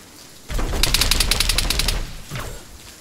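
Grenade going off in a shooter video game, a sudden loud blast that holds as a dense rattling roar for about a second and a half, then drops away with a brief smaller rumble after.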